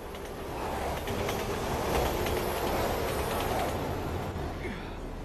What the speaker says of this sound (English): How is this train still running